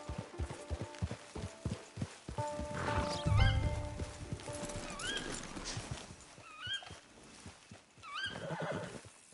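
A horse in the Red Dead Redemption 2 video game whinnies repeatedly over the clip-clop of its hooves, the neighs loud and close with short pauses between them.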